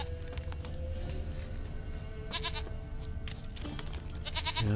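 A goat bleats in The Witcher 3, its wavering cries rising twice over a steady bed of game music and ambient noise, with no voices heard.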